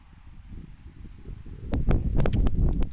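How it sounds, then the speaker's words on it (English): Wind gusting outdoors, building from a low rumble into loud buffeting bursts that batter the microphone, with rustling and sharp flapping. "Uh oh, here come the wind."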